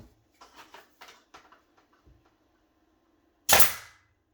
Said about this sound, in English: Take our pin nailer. Shoot two pins in there.